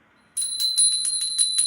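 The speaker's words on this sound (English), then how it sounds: "You get a bell." A small bell rings in a quick, even series of about seven bright metallic dings, close and clear, with a sustained high ringing tone carrying through the whole burst.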